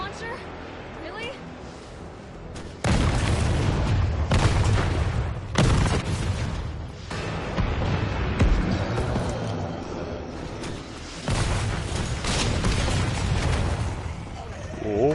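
Rocket launcher blasts and explosions in Resident Evil 3, a survival horror video game: a series of loud, dense booms and bursts that crowd together for most of the stretch, with a voice talking under the action.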